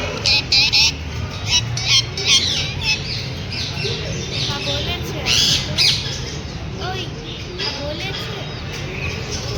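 Birds squawk and chirp in sharp, repeated calls over a busy, noisy Sunday market in Rajkot, with a voice talking faintly underneath.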